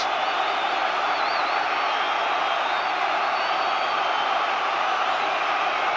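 A large football stadium crowd roars and jeers continuously after a free kick given against Lovenkrands, the dense noise steady and loud throughout with no break.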